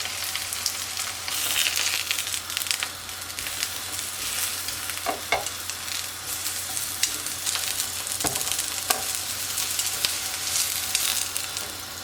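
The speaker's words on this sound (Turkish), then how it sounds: "Ve bu şekilde patlıcanlarımı kızartacağım. Çok az bir yağla şu şekilde." Steady sizzling of eggplant frying in a pan with very little oil, a dense crackle with occasional pops, close and continuous with no voices.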